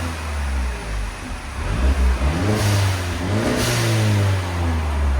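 A 2018 Mercedes-Benz CLA 250 with a 2.0L turbo engine and stock exhaust revs twice, rising from a deep, subdued idle in two swells, heard close up with no talking.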